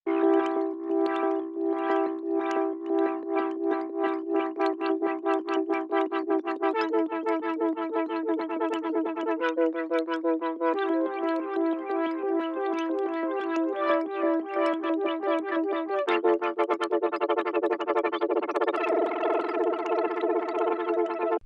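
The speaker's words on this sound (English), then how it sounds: "I modulated the arpeggiator on it just randomly" A synthesizer plays a rapid repeating arpeggio modulated by an LFO, its pulsing rhythm and tone shifting and wobbling over time, steady and loud throughout with no voices.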